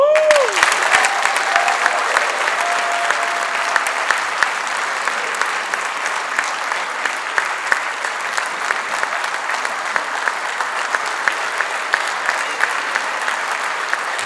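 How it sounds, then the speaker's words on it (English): Sustained, dense applause from a large audience at a conference awards ceremony, loud and steady throughout with a faint crowd murmur underneath. "I think they all deserve another round of applause."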